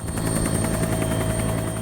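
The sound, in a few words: helicopter flying over Greenland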